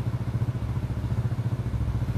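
A motorcycle engine runs steadily during a roadside noise-level sound test, giving a close, throbbing mid-pitched idle with an even pulsing rhythm and no talk over it.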